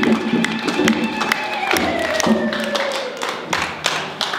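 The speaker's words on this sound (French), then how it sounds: "acclamons fort pour notre Seigneur" A church congregation at an Easter celebration cheers and claps together, a dense crowd roar with scattered shouts and rhythmic applause that stays steady and loud throughout.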